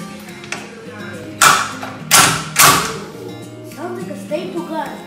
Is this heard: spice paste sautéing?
no